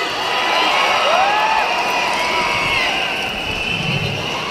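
Large audience at Moa Arena cheers and shouts, a loud sustained roar with scattered whoops and high voices rising over it, easing slightly toward the end.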